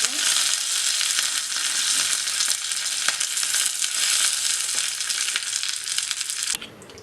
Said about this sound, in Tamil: கடுகு வெடித்ததும் இதில் கருவேப்பிலை சேர்த்துக்கலாம்.